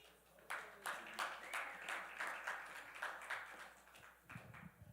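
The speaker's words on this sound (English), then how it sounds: "Clap it up for her, y'all." A small gathering at a community huddle meeting claps for a speaker being called up, a short run of fairly quiet, uneven hand claps that thins out near the end.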